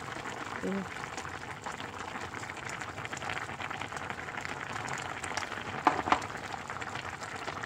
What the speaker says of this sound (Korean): 바글바글 묵은지 김치찌개가 완성되었습니다.